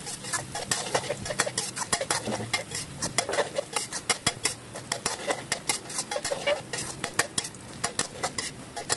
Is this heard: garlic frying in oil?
yes